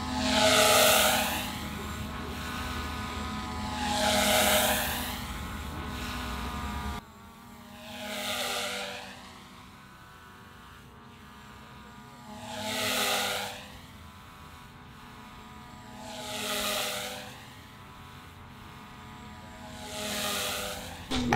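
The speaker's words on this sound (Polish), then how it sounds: "spróbuję teraz drona wokół mnie, żeby latał" A small camera drone circles around a person at a skatepark. Its steady propeller buzz swells and fades in a regular rhythm, rising in pitch as it passes close and dropping as it moves away.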